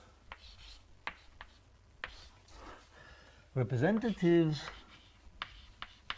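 Chalk or marker strokes on a board during a university mathematics lecture, scattered short scratches and taps at a moderate distance while a lecturer talks over them.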